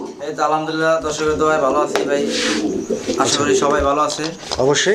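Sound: pigeons cooing at a pigeon seller's shop

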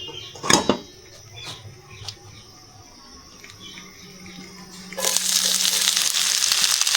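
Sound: nigella seeds sizzling in hot oil for watermelon rind fry

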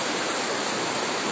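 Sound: rushing floodwater

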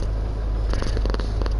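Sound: cat purring

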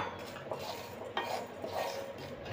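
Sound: stirring the poha mixture snack in a pan

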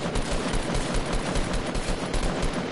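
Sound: gunfire in the video game Fortnite

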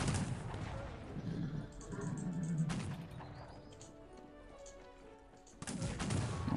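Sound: cannons and musket fire in the video game Cossacks 3

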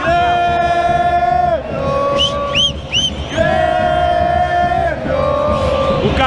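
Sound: Grêmio fans in the stadium crowd

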